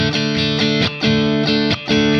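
Fender electric guitar played through heavy distortion, with loud, dense chords strummed in a steady repeating rhythm and short breaks between strokes.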